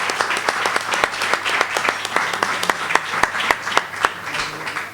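An audience at a Spanish-language discussion gathering applauds, giving dense, steady clapping that fills the whole five seconds at a fairly loud, even level.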